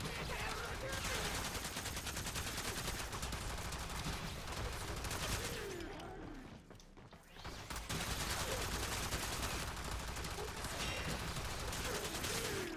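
The Attica weapon fires in the Warframe video game against Corrupted Heavy Gunners, a dense, steady stream of rapid shots with a brief lull partway through, heard at low volume.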